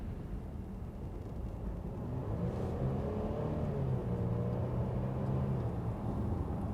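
A Mercedes-Benz GLC 300 Coupe engine in comfort mode hums steadily and gradually rises in pitch as it accelerates, with a low road rumble underneath and no talking.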